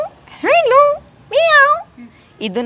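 A human voice imitates a cat's meow, giving three drawn-out, rising-and-falling mews in a row, loud and close, separated by brief pauses.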